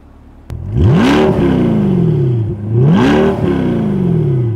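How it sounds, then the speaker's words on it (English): A C8 Corvette's engine revs sharply twice, each burst rising and falling with a throaty exhaust note, loud and close. "it's a great way to let everybody hear that exhaust on your beautiful C8 Corvette"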